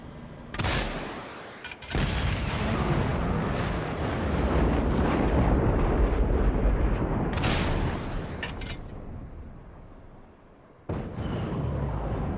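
Explosions from a Bavarian nuke launcher in Just Cause 3: sharp blasts at the start that swell into a long, loud rumbling roar, then a quieter lull before another abrupt boom near the end.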